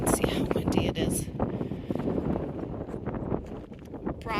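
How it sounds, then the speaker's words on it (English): Gusty wind at a desert boondocking campsite in Arizona buffets the microphone in loud uneven surges, with brief rustling and flapping bits over the steady roar. "you can see how windy it is"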